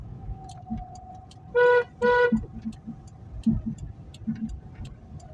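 Two short car horn honks in quick succession from a driving school car in Khulna, Bangladesh, loud against a low engine rumble and faint ticking.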